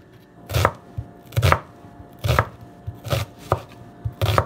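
Knife chopping onion on a cutting board in a home kitchen, about nine crisp, close chops falling in an uneven but steady rhythm, with no talking.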